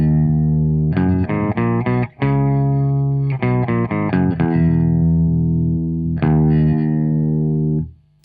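An electric guitar plays through a Boss PX-1 set to emulate a vintage Boss OC2 octave pedal, with choppy, glitchy synth-like octave notes in short stabbing phrases, then sustained tones, loud and close.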